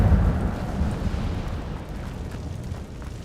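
The Incendio fire spell erupts in Hogwarts Legacy, a loud rumbling whoosh of flame that bursts at once and then slowly fades into a low roar, with no speech.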